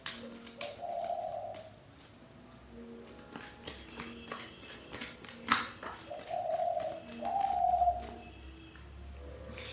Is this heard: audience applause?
no